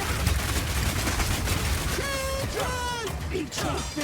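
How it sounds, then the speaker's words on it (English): Rapid, continuous gunfire from the video game Path of Exile 2 rattles in dense overlapping bursts with no clear gaps, while a voice speaks briefly partway through. "Rapid fire."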